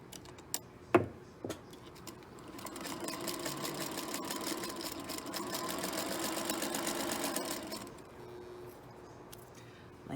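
A sewing machine stitches quilt sashing onto a block, running steadily for several seconds at moderate loudness after a few sharp clicks, then stopping.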